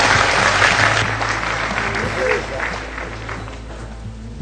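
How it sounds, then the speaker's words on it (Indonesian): An audience at a religious talk applauds steadily and loudly, the clapping continuous and fairly close before slowly thinning and fading toward the end. "kita persilakan tepuk tangan Pak Muzamil"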